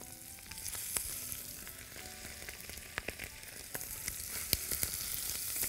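Chicken seasoned with salt, pepper, paprika and Italian herbs fries skin-side down in a pan, a steady close sizzle with crackling pops throughout and no talk.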